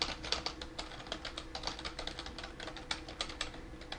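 Rapid, steady typing on a computer keyboard, with soft, close key clicks and no speech.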